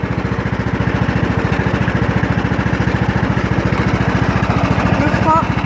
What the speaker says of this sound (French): Là, le tracteur est démarré.